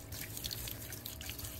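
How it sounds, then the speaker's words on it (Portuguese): Water poured over vintage Semp Max Color TV parts to rinse them makes a steady splashing trickle with scattered drips, fairly quiet and close. "Tô só jogando uma água aqui pra tirar essas"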